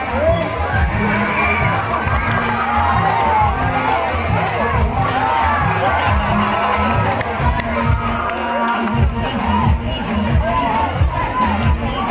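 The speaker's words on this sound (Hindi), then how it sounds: "तालियों बजाए तालियों से अभिनंदन करें बच्चों का उत्साह प्रदान करें।" A crowd at a Teej festival celebration in a village claps and cheers for children, dense continuous applause with shouts and whoops, loud and close throughout.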